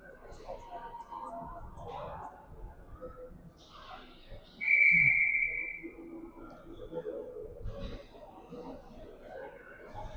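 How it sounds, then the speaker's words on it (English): A single sharp referee whistle blast of about a second signals a timeout at a hockey game, cutting through quiet crowd murmur and faint talk in an arena. "Whistle,"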